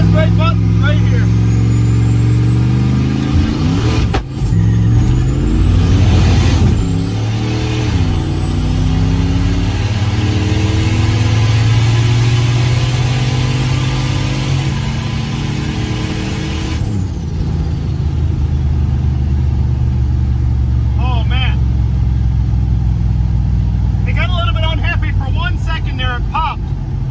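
A tuned car engine held at full throttle on the transbrake roars loud and close, pitch climbing and wavering through the launch and then settling into a sustained high-revving drone, with a voice talking over it.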